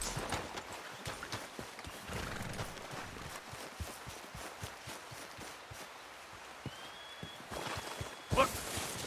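Rhythmic clip-clop of horse hooves in Red Dead Redemption 2, quick and fairly close, running steadily throughout with a brief sharp sound near the end.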